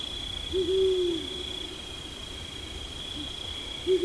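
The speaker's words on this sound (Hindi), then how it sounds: "जैसे कि ये ब्राउन वुड आउल।" A brown wood owl hoots low and clear, one longer call and then a short one, over a steady high insect drone in a night forest.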